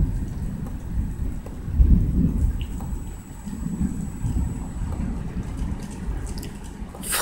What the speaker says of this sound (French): Je suis impressionné par cet orage.